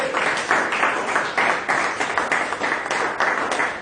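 A church congregation applauds in praise to God during a Sunday service, steady rhythmic clapping from many hands that fills the room throughout, with no talk over it.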